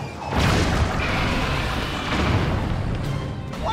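Booming explosions from a boss spewing bombs in Zelda: Tears of the Kingdom, dense rumbling blasts overlapping loudly and continuously with heavy low thuds throughout.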